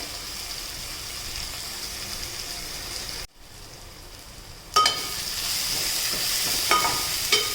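Potatoes and onions cooking in a pan for a spicy dry Konkan-style field bean curry, a steady close sizzle with a brief drop near the middle before scraping stirs resume, no voices.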